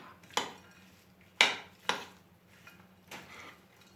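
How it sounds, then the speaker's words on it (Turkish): A spoon stirs a walnut and olive salad with onion and parsley in a bowl, giving four or five sharp clinks and scrapes spaced irregularly over quiet background, close and fairly soft. "Cevizimizi de koyup iyice karıştıralım."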